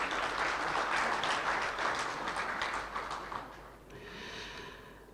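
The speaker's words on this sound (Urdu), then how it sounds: "محترمہ عذرا نقوی صاحبہ، زوردار تالی." Loud applause from an audience at an international mushaira, an Urdu poetry gathering in Bahrain, sustained dense clapping that thins and fades after about four seconds.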